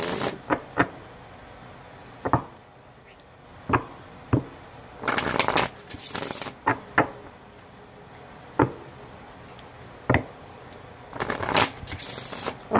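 Tarot catalyst cards being shuffled by hand, with sharp riffling bursts and crisp taps of the deck, close and fairly loud, repeating at irregular intervals.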